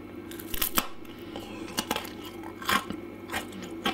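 Crunchy ANZAC biscuit being bitten and chewed up close, a series of sharp crisp crunches spaced irregularly over quiet room tone, with no talking.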